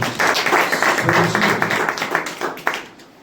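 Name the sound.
congregation clapping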